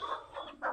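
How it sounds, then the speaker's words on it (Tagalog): Farm chickens cluck in a quick run of short, close calls, loud and clear with no talking over them. "Inaaway ang mga manok"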